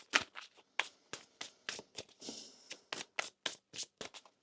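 A tarot card deck being shuffled by hand, a string of papery riffles and soft slaps in quick irregular bursts, close up and quiet with no talking.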